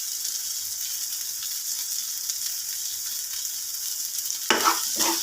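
Corned beef and egg frying together in a pan give a steady, close sizzle, with a short burst of scraping or stirring near the end.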